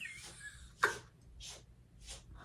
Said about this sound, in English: My cat is outside my door sneezing.